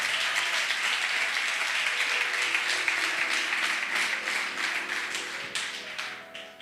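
A church congregation applauding during a Portuguese service, dense steady clapping from many hands, fairly loud, with faint voices beneath and a gradual tapering at the end.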